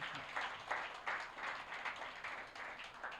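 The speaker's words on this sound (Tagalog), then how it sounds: "Pumalakpak ang nakahanda na." Audience applause in a church during a sermon: a brief burst of clapping from the congregation, fairly faint and roomy, with irregular hand claps rising and falling throughout and no talking.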